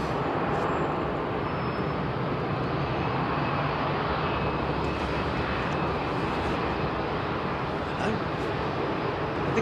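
The broad, steady roar of an Emirates Airbus A380 inbound over Wanstead toward Heathrow carries from a distance, a constant engine rumble with faint talking underneath.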